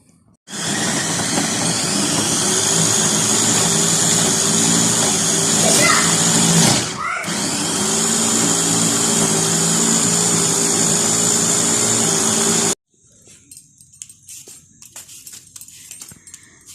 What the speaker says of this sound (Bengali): আমি এখন এই সব উপকরণগুলো একসাথে ব্রেন্ডার করে নেব